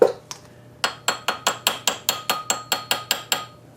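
A ratchet wrench clicks in a quick, even series of about a dozen sharp metallic ticks, up close, while a part is tightened on a 1930 Briggs FH engine under restoration.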